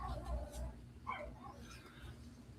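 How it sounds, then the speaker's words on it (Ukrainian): Dogs in Brazil yelp and bark faintly in the distance, a few brief yips rising over a steady low hum with no nearby talk. "ці собаки не сильно заважають."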